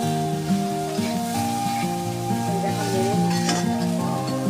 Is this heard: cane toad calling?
no